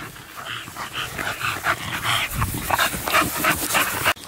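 An excited merle bully breeding female whines and yips in rapid, high-pitched bursts, loud and close, continuous over a rustling outdoor background with no talk.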